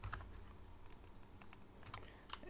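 Typing on a computer keyboard, a quick, faint run of clicky keystrokes in a quiet room with no talk.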